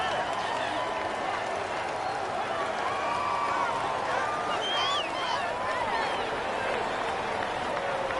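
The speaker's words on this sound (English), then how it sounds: "So several thousand 12th men and women cheering as the Seahawks win at home." Several thousand fans in a home football stadium cheer and applaud as the Seahawks beat the Chiefs, a steady, dense roar of crowd noise with whistles and shouts rising through it and no break from start to finish.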